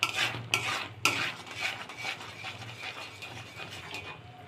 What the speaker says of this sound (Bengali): অনবরত নাড়তে থাকবো এবং এই কিনারগুলি খুন্তি দিয়ে চেঁচে চেঁচে এভাবে নামিয়ে দিব